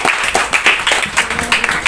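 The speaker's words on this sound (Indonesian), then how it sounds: "Tepuk tangan dong untuk capres-capres nomor 1 kita." Applause from an audience at a school mock presidential election event, honoring the number 1 candidate pair; steady, fairly loud clapping fills the short moment without talk.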